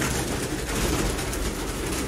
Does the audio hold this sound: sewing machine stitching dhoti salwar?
no